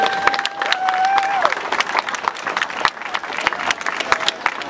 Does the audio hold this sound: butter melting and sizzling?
no